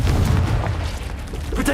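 A Confringo spell explosion in the video game Hogwarts Legacy: a short, deep, rumbling boom, with a voice close by.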